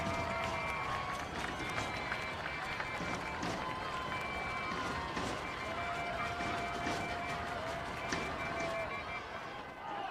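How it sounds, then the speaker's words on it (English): Spectators at a Florida high school regional-final football game cheer in a steady, distant roar that holds for several seconds, with faint whistles or horn tones above the noise. "And the crowd coming to life here."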